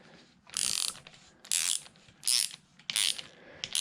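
A ratchet wrench tightens a bolt on a TC450 motorcycle fork while the fork seals are changed, giving four close, loud bursts of rapid clicking with short pauses between strokes.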